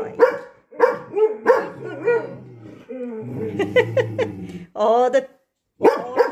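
A dog named Willa barks repeatedly and loudly indoors in short, sharp bursts, with a person talking between the barks.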